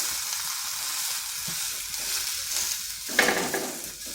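A yogurt and semolina snack fries in a pan with a steady, close sizzle, then a brief scrape and burst of louder crackle as it is flipped near the end; no one speaks.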